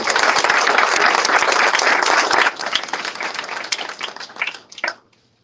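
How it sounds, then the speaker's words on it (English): Audience applause at a human services career support program graduation ceremony, steady dense clapping that thins and tapers off over several seconds before ending in silence. "Please give them a round of applause."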